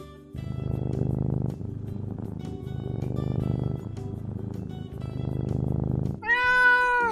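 A domestic cat gives a single drawn-out meow near the end, clear and close, after a stretch of steady background music.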